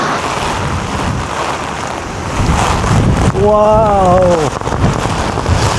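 Strong gale wind blowing outdoors in Japan during a wind warning, a steady loud roar and buffeting across the whole stretch, with a brief sung-like exclamation from a voice partway through.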